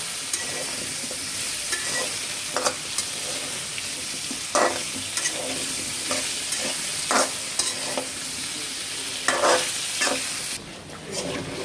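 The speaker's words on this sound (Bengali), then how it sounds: "এরপর আলুটা আমরা ভেজে নিতেছি সুন্দর করে।" Potatoes frying in oil for biryani, with a steady, loud sizzle throughout and repeated scrapes and clinks of a spoon stirring in the pan.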